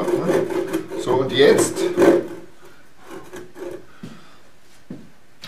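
A hand saw rasps through wood in a few quick strokes while someone speaks German, then fades to faint scrapes and taps.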